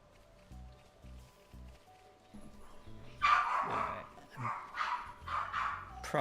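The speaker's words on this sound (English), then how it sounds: "that dog barking must be so annoying." Real dogs bark in short excited bursts nearby while a Xenoblade Chronicles game plays, the barking growing louder and more frequent over soft background sound.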